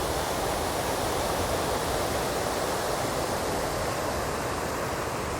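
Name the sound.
water flowing down from a check dam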